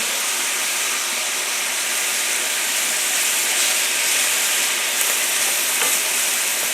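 A hot pan sizzling as it is deglazed during cooking, a steady loud hissing fry that fills the whole stretch with slight flickers and no break.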